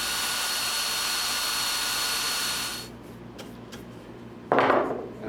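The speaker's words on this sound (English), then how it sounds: "I'm going to take a 1/4 inch drill, just drill out the center." A quarter-inch power drill bores out the center of an old wooden dowel during an antique table repair, running as a loud, steady whir for nearly three seconds, then stopping, with a short burst of drilling near the end.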